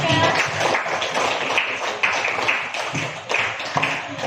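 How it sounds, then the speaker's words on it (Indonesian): Students in a classroom applaud a presenting group with steady, dense clapping that holds at a moderate level for several seconds, a few sharper claps standing out from the mass. "Beri tepuk tangan kepada kelompok 3."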